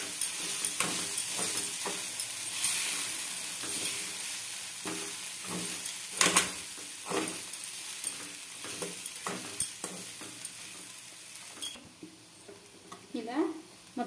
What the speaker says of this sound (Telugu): అది కూడా బాగా మిక్స్ అయ్యే వరకు కలుపుకుందామండి